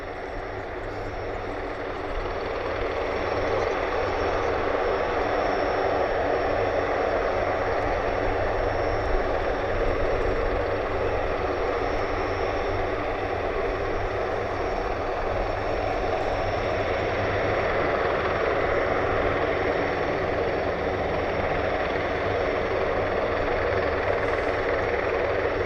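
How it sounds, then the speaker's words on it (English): An aircraft takes off at Mildenhall airfield, its engine roar swelling over the first few seconds and then holding as a loud, continuous, broad drone with no voices. "that is cleared for takeoff"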